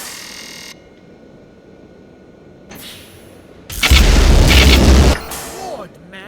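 A nuclear cannon fires in the Black Mesa game, a loud, deep booming blast that swells suddenly and holds for over a second before cutting off, following quieter game ambience.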